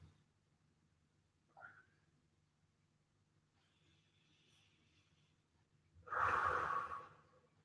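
A deep, forceful breath rushes out near the end of a stretching recovery workout, following a quieter, shorter intake earlier, over a low background hum.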